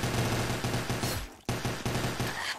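Rapid bursts of gunfire from other players in a Black Ops 3 Zombies game crackle in dense, repeated volleys, loud and close, with a brief gap midway before the shooting resumes.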